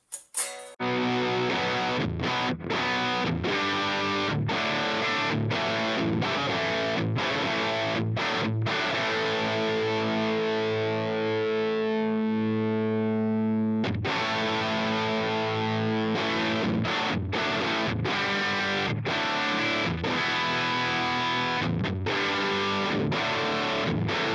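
Distorted electric guitar through a Line 6 HX Stomp with high-cut reduced plays chugging riffs and held chords with a thick, effected tone, one long sustained note ringing out midway; no talking.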